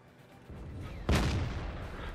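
A single heavy tank cannon shot in World of Tanks, a sharp loud boom followed by a rumbling tail over low background noise.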